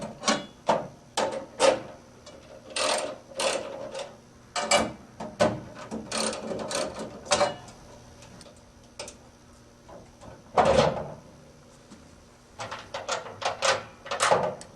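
An industrial washing machine door is taken off, giving a run of sharp metallic clicks, taps and clunks in irregular bursts over about fifteen seconds, close and alone with no talk.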